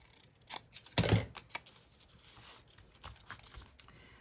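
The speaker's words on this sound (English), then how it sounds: "I'm also going to trim this piece here." Scissors trimming a piece of paper for a journal page pocket, one loud crisp snip standing out amid a few lighter cuts and paper rustles, close and without talk.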